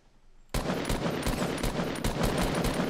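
Rapid bursts of Fortnite Battle Royale gunfire start abruptly and keep going as sustained automatic fire, with repeated sharp cracks over a dense, loud backdrop.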